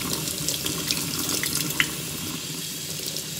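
Broccoli being rinsed under a running kitchen tap, with a steady, close rush of water splashing into a sink and a few brief louder spatters, continuous throughout with no talk.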